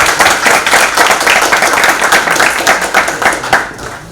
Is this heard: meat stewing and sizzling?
no